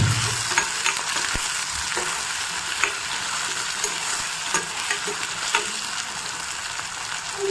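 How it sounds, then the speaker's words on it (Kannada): Onion, tomato and green chilli fry in a pan with a steady close sizzle, broken by occasional scraping clicks of a spoon stirring, continuous with no voices. "ಚೆನ್ನಾಗಿ ಫ್ರೈ ಮಾಡ್ಕೊಳ್ಳಿ."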